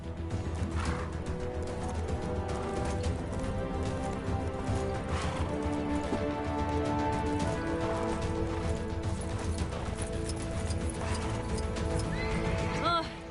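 A horse whinnies and neighs with clip-clopping hooves in the video game Lego Marvel Superheroes 2, the neighs standing out clearly over a steady patter like rain, with a voice speaking partway through.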